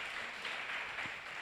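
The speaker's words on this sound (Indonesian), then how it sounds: "Tepuk tangan dulu buat Tuhan Yesus." Congregation clapping in a church service in praise of Jesus, a steady, soft wash of applause from a crowd heard at a distance throughout.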